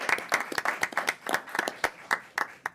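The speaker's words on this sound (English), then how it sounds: "So join me for applause for these retiring superintendents." A small group at a school administrators' meeting claps for retiring superintendents; the sparse, distinct handclaps are fairly quiet and carry in an uneven rhythm for a few seconds.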